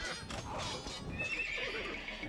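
A horse neighs in Age of Empires II as a stable finishes building, a clear single whinny rising and falling over about two seconds, with no voices.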